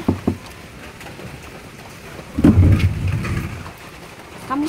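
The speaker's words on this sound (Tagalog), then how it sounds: "Marami ulit ulan." Rain falls steadily as a continuous hiss, with a few louder bumps and thuds mixed in, moderately loud and close.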